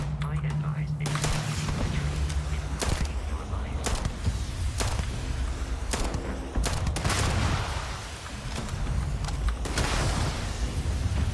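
Steady, rapid gunfire from the game Starfield crackles in loud, regular bursts across the whole stretch, with a low rumble underneath.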